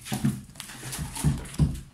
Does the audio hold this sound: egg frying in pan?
no